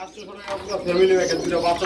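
Pigeons kept for sale at a seller's stall coo softly and continuously in the background while nearby voices talk over them.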